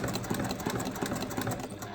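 A sewing machine stitches rolled fabric bag handles, a steady rapid mechanical whirr with fine repeating ticks running close and continuous throughout, with no talking.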